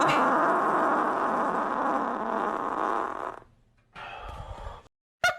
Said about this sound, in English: That's like a sound effect fart.